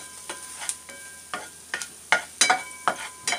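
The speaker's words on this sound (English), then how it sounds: "isosaute lang yung garlic. Really smells good na yung garlic." Garlic sautéing in a pan for Filipino chicken apritada: a low sizzle broken by about eight rhythmic stirring scrapes, close and distinct.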